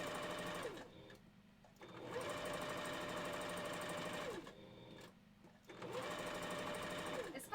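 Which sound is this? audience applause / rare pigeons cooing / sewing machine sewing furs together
sewing machine sewing furs together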